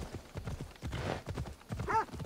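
A horse in the game Assassin's Creed Odyssey clip-clops along in quick hoofbeats, close and fairly quiet, with a short whinny near the end.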